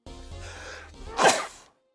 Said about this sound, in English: I want to sneeze.